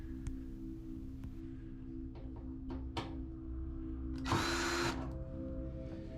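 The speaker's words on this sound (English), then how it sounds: "Unscrew the 4 screws on the cross support" Power drill unscrewing screws from the cross support of a Samsung dryer, a brief whirring burst of about half a second amid a low steady hum and scattered clicks and taps, fairly faint, with no talking.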